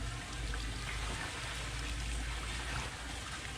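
Lao rice liquor, a homemade white spirit from Muang Khong Sedon in Salavan, trickles into a plastic bag in a faint, steady stream with no talking.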